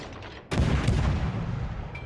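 A naval gun salvo from a destroyer in the World of Warships video game bursts in suddenly, then a loud low rumbling roar lingers and slowly fades.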